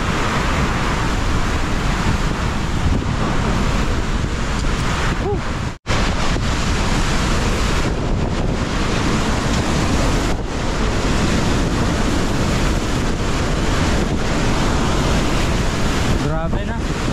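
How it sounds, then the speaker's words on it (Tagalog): Strong wind roars continuously against the microphone, a dense, loud buffeting rush with brief gusty dropouts, and surf-like wash underneath. "Nagbago yung direksyon ng hangin tapos lumakas"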